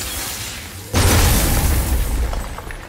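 Glowing crystal in a video game struck and bursting with a sudden heavy boom, followed by a dense shattering crackle that slowly thins out, with a few small tinkling bits near the end.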